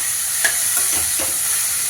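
Chopped onion being sautéed in a hot pan, with a steady hiss of frying and a few soft scraping stirs of a spoon, close and fairly quiet with no talking.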